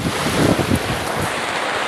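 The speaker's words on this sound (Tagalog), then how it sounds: "makikita po natin gano'n po kalakas yung hangin dito sa" Strong wind roars across the microphone in steady, heavy gusts at a flooded poultry farm, a loud broadband rush with no voices.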